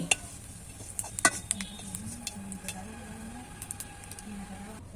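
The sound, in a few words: cumin seeds frying and stirred in mustard oil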